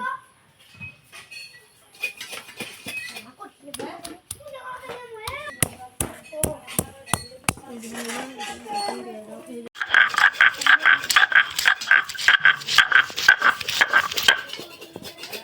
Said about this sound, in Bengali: মাংস রান্দিবার জন্য আমি আদা রসুন এনে বাইঠা নুমু